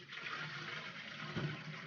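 A grimy, clogged toilet flushing in the Mafia 2 video game, a steady watery rush with a brief swell near the end, fairly faint and heard without talk.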